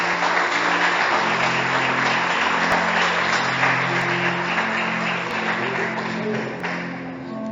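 Church congregation applauding throughout a sermon service, a dense steady wash of many hands clapping with a low sustained organ or keyboard tone beneath, fading slightly toward the end.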